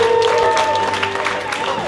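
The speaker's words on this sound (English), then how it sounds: "Please, big round of applause for our champion." A crowd at a cocktail competition awards ceremony claps and cheers briefly, the applause steady under a sustained tone and some background voices.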